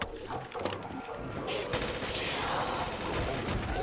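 Rapid sustained automatic fire from a micro LMG light machine gun in the Call of Duty Black Ops 3 custom zombies mode, a dense continuous burst that runs loud throughout with no speech over it.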